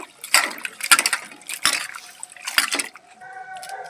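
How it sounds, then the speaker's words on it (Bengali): Coriander leaves being rinsed by hand in water, with bursts of splashing and sloshing, a few drips and a faint running trickle toward the end, close and fairly loud. "ধনে পাতাগুলো ভালো করে ধুয়ে নেব।"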